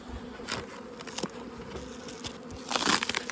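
Honey bees buzz inside a nest box, a dense, close, continuous hum with faint crackling movement and no voices.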